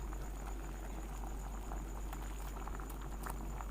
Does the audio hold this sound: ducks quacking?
no